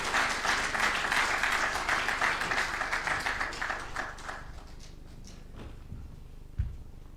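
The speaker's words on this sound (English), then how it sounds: "let's, with a warm applause, welcome Madam Elizabeth Ohinewas" An audience at an ethics lecture applauds, a dense wash of clapping that gradually thins and fades over several seconds, with a few scattered claps at the end.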